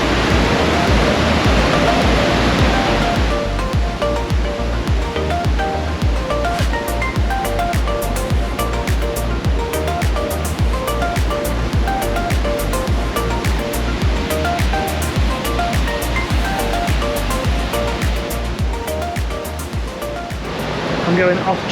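Powerful Marian Falls in Fiordland roars as a loud, steady wash of broadband water noise that stays constant throughout, with no talk over it.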